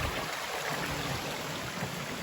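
Heavy rain pours down beside a river, a close, steady hiss of falling water with no pauses.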